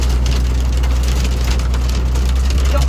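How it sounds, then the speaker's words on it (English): Dense, steady pattering of hail drumming on a freshly painted truck's metal body, with a low engine rumble underneath and no voices. "freshly painted truck and it's hailing on it."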